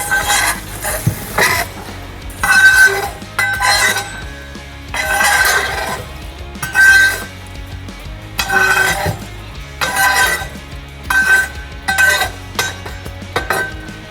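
A long-handled wood scraper scrapes and clanks against the brick floor of a wood-fired pizza oven while the fire is pushed to the back, in repeated bursts of scraping separated by short pauses, close and clear.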